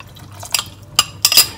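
Cornflour mixed with water is poured into a pot of sauce for vol-au-vent, giving a few short, wet splashes and drips close by, with quiet gaps between them.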